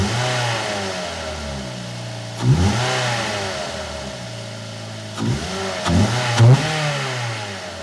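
Engine of an NC Mazda MX-5 Miata fitted with an AEM cold air intake, heard close and alone as it revs up and settles, with several sharp throttle blips toward the end.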